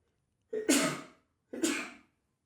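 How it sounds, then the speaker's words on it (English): Two sharp sneezes about a second apart, each a burst of breathy noise with a quick onset and fading tail, close to the microphone and on their own with no talk over them. "Sorry, I was having a sneeze."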